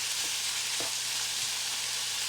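Onions frying in a pan give a close, steady sizzle with a few faint stirring taps and no voices.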